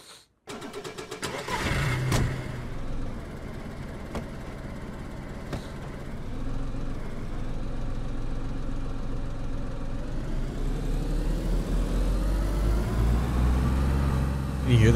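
A car engine in the video game DayZ starts up and runs steadily at a medium pitch, rising slightly toward the end, close and continuous for the whole stretch.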